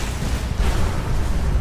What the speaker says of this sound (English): that explosion actually goes out a lot farther than I thought it would